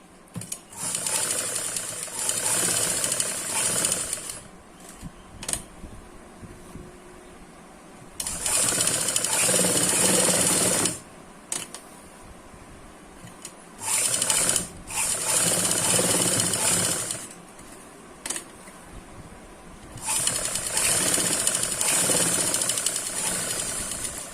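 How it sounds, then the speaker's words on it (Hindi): Sewing machine stitching a second line of stitches along a dress front neckline to set lace in place, running in loud bursts of a few seconds separated by quiet pauses and short starts. "हम इस पे एक और सिलाई चलाएंगे तब ताकि हमारा लेस और अच्छे से बैठ जाए"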